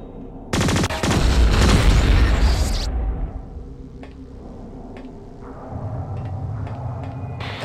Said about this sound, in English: Blast these containers to get them out of your way